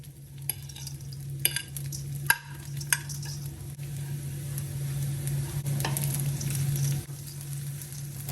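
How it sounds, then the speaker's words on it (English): Cooked jasmine rice stirred into a pot with a little olive oil for Ghanaian fried rice, a low steady hiss under scattered spoon clacks and scraping knocks against the pot. "In the same pot, we're going to add a little bit of olive oil and then go in with our perfectly cooked, singled out jasmine rice"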